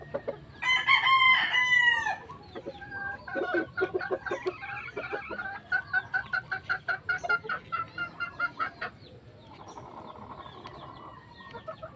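A rooster crows loudly nearby in a game farm breeding area, followed by a run of rhythmic clucking from chickens and a softer call near the end.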